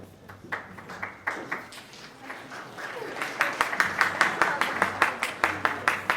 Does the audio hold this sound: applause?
yes